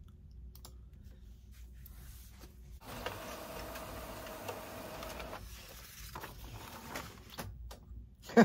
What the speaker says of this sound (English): Okay, so now I'm going to press print.